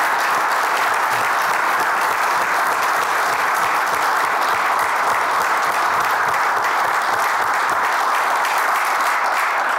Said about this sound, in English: So why don't we give a nice round of applause to